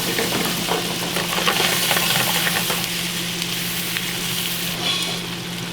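Aromatics for adobo sizzle and fry steadily in a hot pan where chicken was browned, a dense continuous crackle with occasional stirring, close and loud with no talking.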